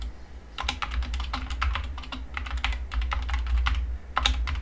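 Steady, fast typing on a Keymove computer keyboard, with dense clacking keystrokes in continuous bursts, close and clear, with no talking.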